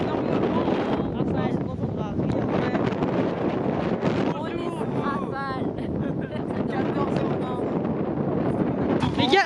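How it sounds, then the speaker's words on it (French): Strong wind buffets the microphone outdoors during a trip to Spain, a loud, continuous roaring rumble that never lets up, with gusty fluctuations and faint voices buried underneath. "le vent il est tellement puissant que la valise avance toute seule"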